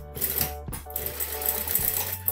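Sewing machine starting up and stitching along the edge of a stiff interfacing on a shirt collar, a steady close mechanical whir with a brief pause and restart partway through.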